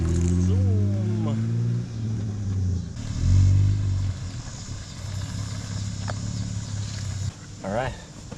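A Jeep Wrangler Rubicon's 3.6 engine, fitted with a muffler delete, cranks and fires, then idles with a low steady drone and surges briefly, while people talk over it nearby.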